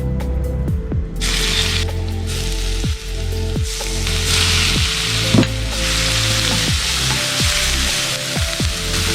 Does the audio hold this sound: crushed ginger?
yes